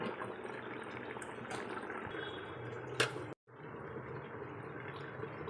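Mutton bubbles steadily in a pot for biryani, giving a close, continuous simmering texture with a brief louder clatter and a momentary cut before the boiling resumes.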